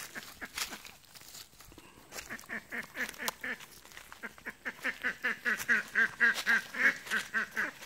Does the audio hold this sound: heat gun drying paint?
no